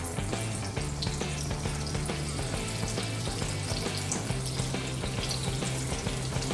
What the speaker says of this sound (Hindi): अब हम हमारे बॉल इसमें डालेंगे।